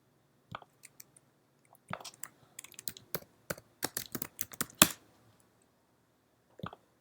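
Typing on a computer keyboard while looking up an ASCII chart: scattered key clicks at first, then a dense burst of quick keystrokes ending in a sharp final press, one more brief tap after a pause, with no talk.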